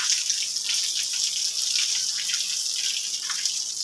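Water running steadily from a tap at a brick construction site during concrete curing, a constant close hissing splash that fills the whole stretch.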